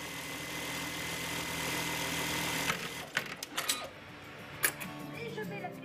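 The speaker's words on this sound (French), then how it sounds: "le petit village de Valcanville est rythmé par le son des machines à coudre" Sewing machines whir steadily in a knitwear factory in a small Cotentin village, a continuous mechanical drone followed by scattered clicks and clatters of nearby work.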